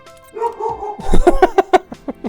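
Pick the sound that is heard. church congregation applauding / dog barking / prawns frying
dog barking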